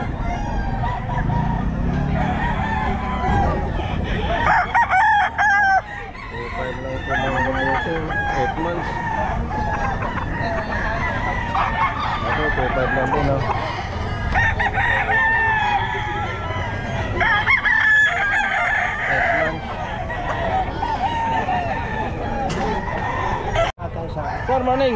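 A Pumpkin Hatch gamefowl rooster crows repeatedly at a busy pet market, with nearby clucking from other fowl, under constant crowd chatter and people talking close by.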